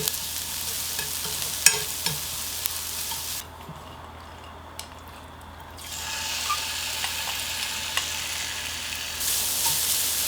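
Onions sizzle and hiss in a hot pan while being stirred, with scraping clicks from the utensil throughout.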